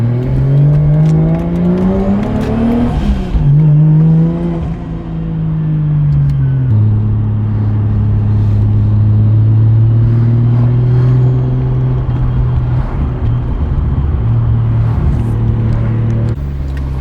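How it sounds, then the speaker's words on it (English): A Toyota JZX100 Chaser's engine rumbles and revs up, its exhaust note rising and falling as it accelerates past a strip of shops, loud and close, with a steady droning tone between bursts. "you'll be able to really hear the exhaust"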